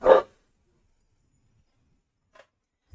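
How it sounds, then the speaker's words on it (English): A dog gives one short, fairly loud bark at the start, followed by near silence with a couple of faint small sounds later. "You guys probably heard my dog Nova there"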